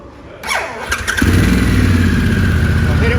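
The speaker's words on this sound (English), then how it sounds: "Oh, I gotta turn the bike on." A Harley-Davidson Pan America motorcycle is switched on and its engine starts, a whine and starter crank quickly giving way to a loud, close, steady idle.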